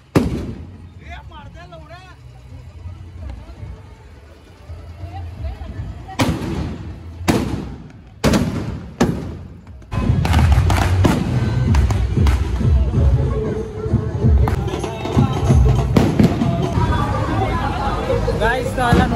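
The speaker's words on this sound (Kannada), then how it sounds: "ಅನ್ನೋ ಬೆಂಕಿ ಕತೆ ಪಟಾಕಿ ಹೊಡ್ಯಾತಾರ" Firecrackers burst in loud, sharp volleys during a crowded Ganesh idol immersion procession in Belagavi, with dense bangs and crackling dominating the second half over constant crowd babble and voices.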